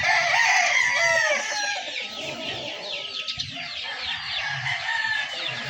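A straight-breed lemon gamefowl rooster clucks and crows loudly at close range, its calls overlapping with other chicken noise in a busy, continuous farmyard din that runs throughout without talking.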